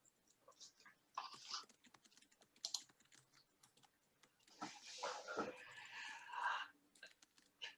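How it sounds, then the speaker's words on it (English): Keyboard typing comes faintly through a remote parent meeting call as scattered soft clicks and short flurries of keystrokes, low in level against a quiet background. "I can hear you typing."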